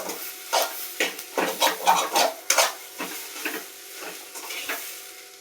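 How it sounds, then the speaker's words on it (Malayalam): Rice being stirred in a pan: a series of rhythmic scraping strokes, roughly two per second, close and moderately loud with a faint sizzle underneath and no talk. "അരി പിടിക്കാതെ നല്ലവണ്ണം ഒന്ന് ഇളക്കി കൊടുക്കണം കേട്ടോ."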